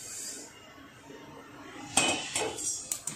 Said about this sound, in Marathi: आता आपण ही जी डाळ आहे ती ह्या कापडावरती ओतून घेणार आहोत